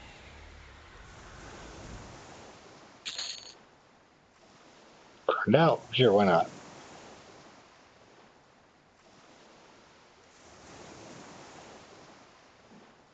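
Ocean surf washing ashore in the EverQuest video game, soft rolling waves at moderate distance under a brief spoken exchange and a few louder bursts of game sound.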